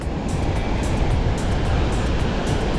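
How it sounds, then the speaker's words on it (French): Rough sea surf pounding a wild sandy beach at Batu Caras, Java, a continuous loud broadband roar of breaking waves with no voices. "La mer est déchaînée hein, par ici, quand même. Il y a des belles vagues."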